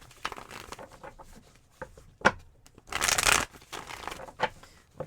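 Tarot and oracle cards shuffle close by in soft riffling bursts, with a louder, denser run of card flutter in the middle and scattered light taps and slides around it.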